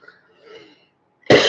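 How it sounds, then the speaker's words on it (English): A single sharp cough bursts out loudly near the end, after a stretch of faint background murmur. "Yeah, the cough."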